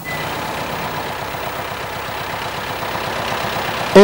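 A forklift truck drives steadily with its engine running at an even mid-pitched drone, close and loud throughout, with a brief sharper sound at the very end.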